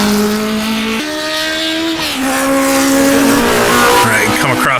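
A 1960s Formula 1 car without wings or downforce, raced in rFactor 2, revs loudly through steady up and down gear changes with tires squealing near the end, while someone talks over it.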